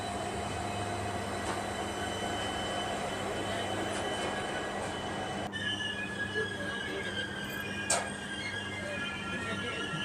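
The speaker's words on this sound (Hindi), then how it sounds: "निर्धारित समय से 11 मिनट की देरी से ही आ चुके हैं हम लोग आज की अपनी डेस्टिनेशन जोधपुर रेलवे स्टेशन" A train pulls into Jodhpur railway station in Rajasthan, rolling with a steady rumble while its wheels squeal in long, high tones, with a sudden clank partway through and a brief knock later on.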